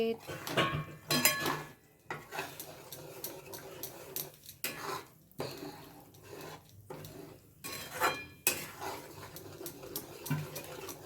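Flour roasting in plenty of ghee in a pan, stirred with a spoon that scrapes and knocks against the metal in irregular bursts, with a voice faintly in the background.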